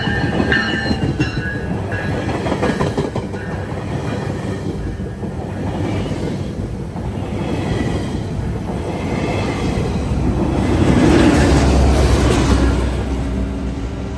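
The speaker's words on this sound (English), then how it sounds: "We were able to get a westbound equipment move GO train." A westbound GO train equipment move rolls past on the railway, a loud, steady rumble of wheels and cars that swells toward the end as it passes close by.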